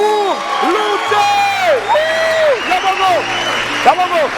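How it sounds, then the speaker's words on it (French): A live stage show audience in a French-speaking venue applauds and whoops for a performer, steady clapping with shouts rising through the crowd while an emcee's voice carries over it. "Mesdames et messieurs, on va applaudir très fort pour Louté."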